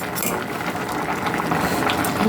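Amaranth stem greens boiling in a pot of water: a dense, continuous bubbling and gurgling, fairly close and steady, with no one speaking.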